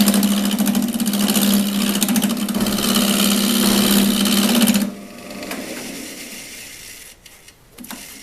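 S.I.P 01490 lathe running with a steady whirring hum and a strong tonal drone for about five seconds, then spinning down quieter with a few light knocks near the end, close up, with no talking.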